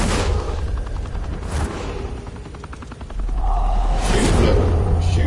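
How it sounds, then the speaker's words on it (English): Bursts of gunfire from a Batman video game, loud rattling volleys with a heavier rumbling stretch toward the end, no voices in between. "Shooting at the Batman."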